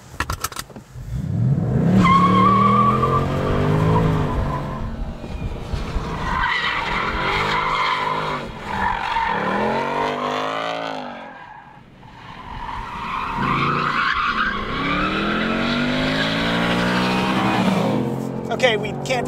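A 2019 Ford Mustang Bullitt is driven hard, tires squealing and skidding in long sliding wails as the engine revs and roars, loud and close, with a brief lull midway before another extended skid.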